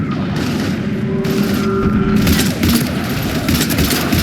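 Heavy gunfire in Mass Effect 3 during a battle against Husks, dense rattling shots and booms layered continuously, loud and close.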